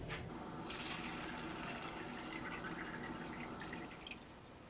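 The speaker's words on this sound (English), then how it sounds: "Then I'm just going to pour it into this bowl," Apple cider pouring through a paint strainer into a bowl, giving a steady, close splashing gush that runs throughout and eases slightly near the end.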